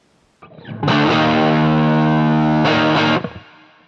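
A 1989 Fender Stratocaster played through a Quilter Pro Block 200 amp rings out a single sustained distorted chord, loud and close, with a brief re-strum near the end before fading.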